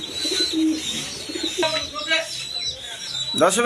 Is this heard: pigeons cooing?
yes